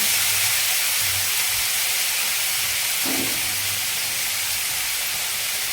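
Water is sprinkled over eggplant slices frying in a little oil, and the pan gives off a continuous loud hiss of steam that stays steady throughout.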